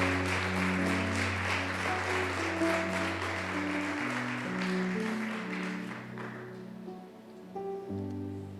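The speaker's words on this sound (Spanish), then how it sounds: "Celebre la palabra con un aplauso." A church congregation breaks into broad applause over sustained organ-like chords, the clapping dense at first and then thinning out toward the end.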